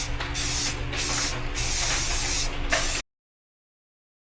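Close, steady hiss of Rust-Oleum high heat automotive primer sprayed from a can onto an engine oil pan for a Workhorse Vortec 7.4, running in several short bursts for about three seconds, then silence.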